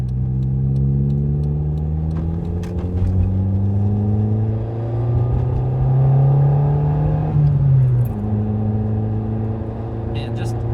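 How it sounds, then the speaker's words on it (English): A 1994 Nissan Pulsar GTI-R accelerates up a highway on-ramp, its engine rising in pitch through the revs, easing off with a shift, then climbing again, heard close and strong from inside the car. "Just breezing up the throttle onto the highway is a thrill"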